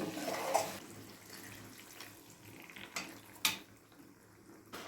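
Water poured into a pot of home-style mutton curry with chopped tomatoes and chillies, a soft splashing pour with a few clinks of metal and utensils in a quiet kitchen.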